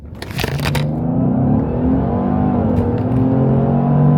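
A 2021 Lincoln Aviator GT with a Livernois tune revs hard in performance mode, the engine note climbing and holding high RPM, loud and close, after a brief crackle at the start.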